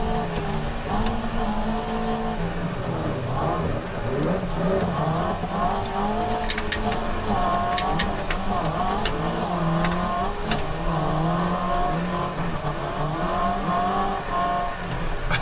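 A van in BeamNG revs hard with a wavering, rising and falling engine drone while its tires squeal and skid through a drift, loud and continuous, with brief sharp whistling chirps in the middle.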